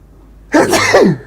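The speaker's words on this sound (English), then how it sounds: "a sneeze coming on." A single sharp sneeze, close and loud, bursting out after a brief quiet moment.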